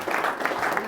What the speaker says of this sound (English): I want a round of applause for this guy.